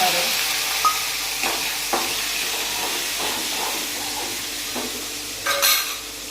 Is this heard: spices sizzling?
yes